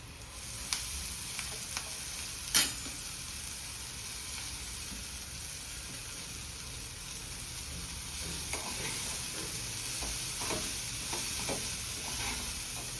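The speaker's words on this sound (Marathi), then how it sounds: "आणि आता ह्याच्यामध्ये आपण शेपू घालून घेऊया" Dill leaves fry in oil in a pan for a Marathi vegetable dish with dried fish, giving a steady soft sizzle throughout with occasional light scrapes and clicks of stirring, close and without talk.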